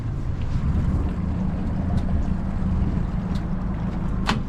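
A used Ocean Pro 220 boat's engine runs slowly on the water, a steady low rumble that holds even throughout, with wind buffeting the microphone and no talking.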